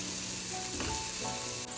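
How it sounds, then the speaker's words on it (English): Mushrooms and onion sizzle in a pan, a dense steady frying hiss with a brief louder flare in the middle, close and fairly loud, no talking. "So I'm just cooking down like the veggies that I'm adding"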